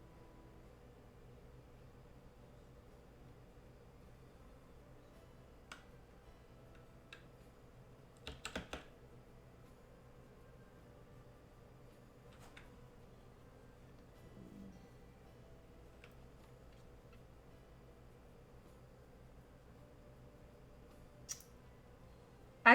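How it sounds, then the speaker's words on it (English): Computer keyboard keys clicked during a Sims 4 game session give sparse, faint, isolated taps with a few louder clustered clicks over quiet room hiss. "I could do an ASMR by just clicking on the keyboard."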